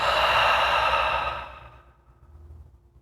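A long, relaxed yoga exhale, close and audible, a breathy rush that fades into quiet over about a second and a half, with no talking.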